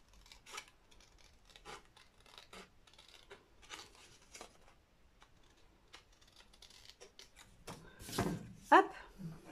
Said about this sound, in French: Alors là, par contre, essayez de couper bien droit.